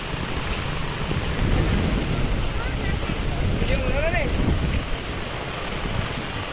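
Heavy monsoon rain and gusting wind at the Mandangad bus stand make a steady, loud roar with buffeting against the microphone, and a faint voice briefly surfaces within it.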